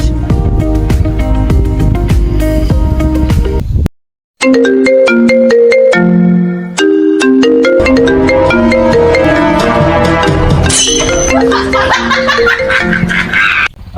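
A mobile phone ringtone plays loudly and continuously as a call comes in, a repeating melodic electronic tune with a brief gap, and faint chuckling appears near the end.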